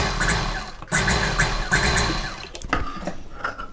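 A domestic sewing machine stitching a blouse piece for a high-neck collar blouse, a steady fast mechanical whirr that pauses briefly, restarts, and then cuts off into quieter handling clatter.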